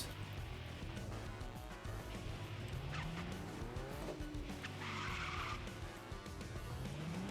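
Race car tyres squeal and skid through a corner in a racing video game, with rising and falling screeching over a constant engine drone.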